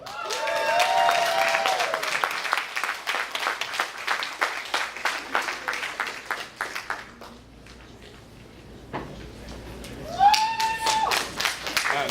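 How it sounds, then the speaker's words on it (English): Audience at a Black Action Defense Committee 30th anniversary event breaking into sustained, fairly close applause for Dr. Akua Benjamin, fading to a lull before a voice speaks at the end. "please give a warm round of applause for Ms. Akua Benjamin"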